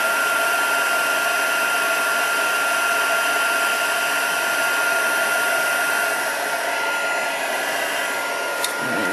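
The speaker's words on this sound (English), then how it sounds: "sure your heat tool is hot before you introduce it to the embossing powder" A heat tool melts embossing powder for stamped card-making, its loud, steady fan-and-heater roar running unbroken and close throughout with no one talking.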